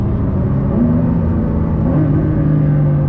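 A Ford GT's engine and exhaust roar steadily while driving, a loud continuous rumble with engine tones climbing and shifting as it revs.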